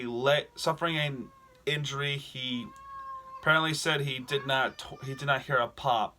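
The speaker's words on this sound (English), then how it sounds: "And excuse my cat." A house cat meows loudly several times in a row, with drawn-out, wavering cries mixed in among a man's speech, the meows sometimes rising above his voice and sometimes filling pauses.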